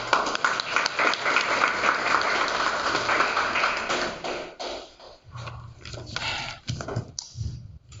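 A crowd at a political regional launch event in Quatre Bornes claps in dense applause for several seconds before it thins into scattered claps, with some murmuring under the fading end.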